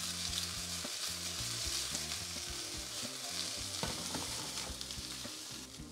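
Chicken pieces fry in a hot pan for a chicken lavash wrap, sizzling steadily and close, with repeated scraping and stirring knocks over the hiss and no talking.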